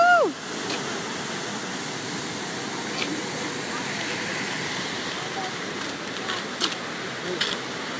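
Steady rushing water of a waterfall in Minneapolis roars continuously, a broad even wash of falling water with a brief tonal sound at the start.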